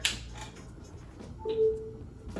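A single soft, brief tonal chime from a MacBook as it starts charging rings out once against a quiet background, close and clear.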